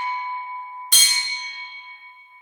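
A single bell strike rings out clearly, like a morning meditation bell, with a bright attack followed by a sustained, slowly decaying metallic tone with several steady overtones.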